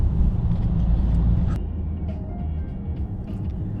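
A 720 hp Ferrari F8 Tributo drives along an icy road, giving a steady low engine rumble and road drone that eases slightly midway.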